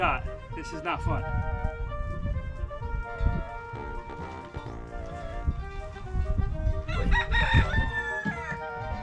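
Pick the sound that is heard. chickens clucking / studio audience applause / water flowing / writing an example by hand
chickens clucking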